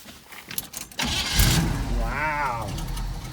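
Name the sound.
Squarebody Chevy truck engine starting and idling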